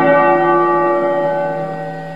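A single church bell strike rings out loud and clear, its resonant tone slowly decaying over a couple of seconds with no other sound.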